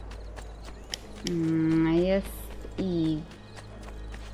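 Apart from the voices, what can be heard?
horse hooves in video game Assassin's Creed II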